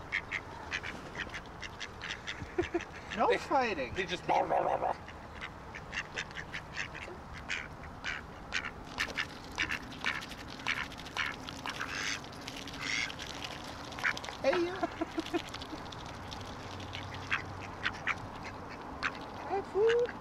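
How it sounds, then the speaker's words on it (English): Ducks at a hotel in Hershey, Pennsylvania quack repeatedly at close range in short bursts, with a few louder calls, while a person talks briefly over them. "Here are some pretty cool ducks from that trip."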